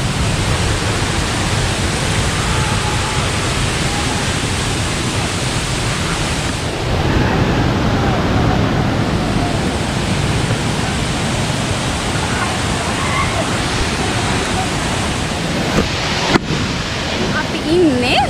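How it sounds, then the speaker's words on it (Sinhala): The Kadiyanlena Ella waterfall near Nawalapitiya roars loud and continuous, a dense steady rush of falling water that fills the whole stretch with little change. "ඉන්නේ දියැල්ලේ දෙවෙනි මහලේ"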